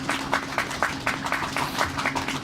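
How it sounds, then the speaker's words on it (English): Audience applause for Deborah Hersman and her team at a ceremony welcoming the first 7000-series railcars to the WMATA fleet, a steady rhythmic clapping with individual claps standing out, moderately loud. "we need to give them a round of applause"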